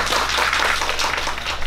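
An audience gives a short round of applause at the close of a talk, a dense, even patter of many hands clapping throughout with no voices over it.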